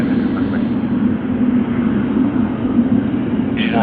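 A Cathay Pacific airliner at Sydney Airport gives a loud, steady broadband jet roar with a strong low rumble that holds for several seconds, heard from nearby.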